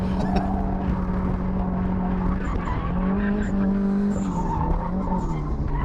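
A drift car's engine revs high and steady while tires squeal in a long drift, loud and continuous, with faint voices underneath.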